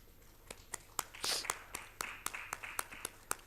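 A small audience claps at a conference session in Rourkela as a guest is invited onstage, sparse separate claps spaced through the moment with a brief denser burst early, fairly quiet and mixed with faint room murmur.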